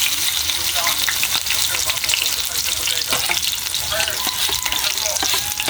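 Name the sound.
squash fritters frying in hot oil, sizzling and splattering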